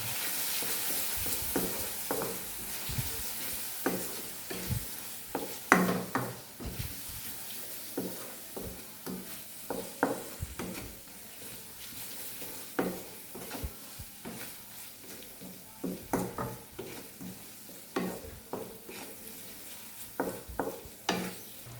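A spoon scrapes and stirs turmeric, Kashmiri red chilli and coriander-cumin powder in a hot frying pan for Kathiyawadi gathiya curry. Repeated sharp scraping strokes ride over a soft, steady sizzle, close and moderately loud, with no voices.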